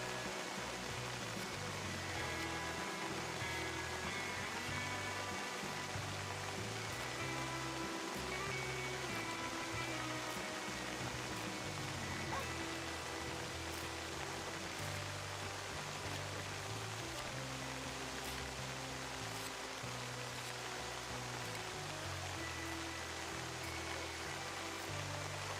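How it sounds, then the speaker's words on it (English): Solid hail falls steadily in Red Dead Redemption 2, a dense, even patter of pellets on the ground all around with faint scattered taps, continuous and unbroken, no voices. "That's some solid hail."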